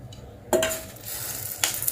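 Hot oil crackles and sizzles in a heated pan while prawn tamarind curry is being started, with a sharp metallic clink at the onset and a second brief clatter near the end over the steady sizzle.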